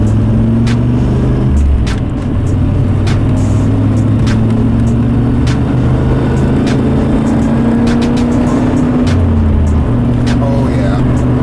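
A 3rd-generation Chevy Camaro engine pulls under acceleration, a loud, steady mid-pitched drone with rising and shifting tones across the run, close to the microphone with no clear talk over it.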